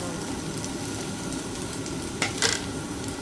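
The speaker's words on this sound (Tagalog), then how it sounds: "Halo muna natin tong ating carrots." Carrots and red pickled vegetables stirred in a hot frying pan: a continuous sizzle with a couple of brief utensil scrapes near the end.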